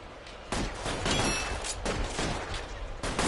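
A shootout in the video game L.A. Noire, with a string of sharp gunshots cracking out at irregular intervals over a steady background din.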